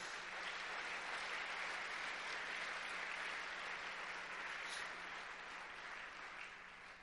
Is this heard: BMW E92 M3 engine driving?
no